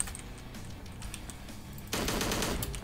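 Gunfire in the video game Slendytubbies 3: a few sharp clicks and shots, then a loud, rapid burst from about two seconds on, with no talking.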